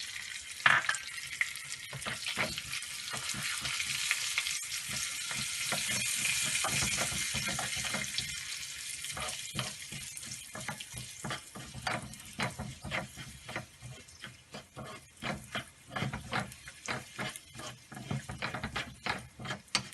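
Hing, turmeric and red chili sizzle and crackle in hot oil, a steady bright fry with some stirring and clatter, fairly close and loud throughout, with no talking.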